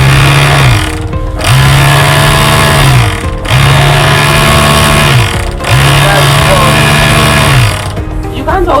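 An electric sewing machine runs in loud close bursts of steady rapid stitching, stopping briefly between runs, with talk over part of it.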